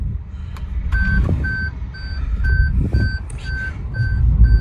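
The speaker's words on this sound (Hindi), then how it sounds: "गाड़ी टूं टूं कर रही है अभी क्योंकि डोर्स खुले हुए हैं" Maruti Suzuki Grand Vitara 2023 hybrid door-open warning chime, a steady series of evenly spaced electronic beeps repeating about twice per second under cabin noise and rustling.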